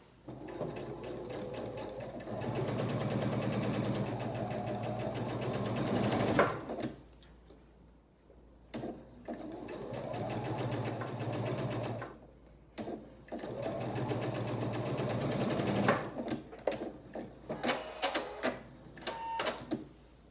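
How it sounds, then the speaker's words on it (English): A sewing machine stitches quilt block pieces with a quarter-inch seam in several bursts of rapid stitching, pausing between runs, then a series of short quick stitches at the end. "I'll take these to the sewing machine"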